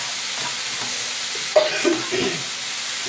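Spice masala with a spoonful of yogurt stir-frying in a pan for a Chinese-style egg and oats curry, a steady close sizzle with a few louder scraping stirs near the middle and no talk.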